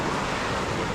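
Ocean waves wash steadily onto the shore at a beach resort in Ternate, Cavite, a continuous broadband surf roar with gusts of wind noise buffeting the microphone, close and fairly loud, with no voices.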